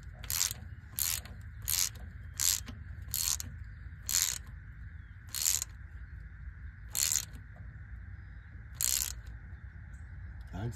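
A wrench tightens a fitting on an aftermarket boost gauge line on a first-gen 12-valve Cummins diesel, giving a series of about ten crisp, close ratcheting clicks in irregular bursts over a steady low hum, with no talk.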